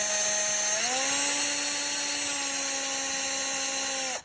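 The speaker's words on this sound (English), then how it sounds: "don't get your finger caught behind the drill bit, because you don't want to drill into your finger" Power drill boring into a plastic stub while repairing a C6 Corvette visor vanity lamp, giving a loud, steady whine that steps up in pitch early on, runs evenly for several seconds, then winds down abruptly.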